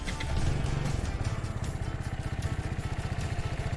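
A Royal Alloy GP180 scooter's single-cylinder air-cooled engine starts on its push button and runs with a steady, rapid thudding pulse at a moderate distance.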